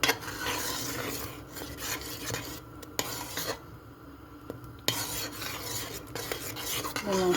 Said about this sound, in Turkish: güzel eriyene kadar karıştıralım.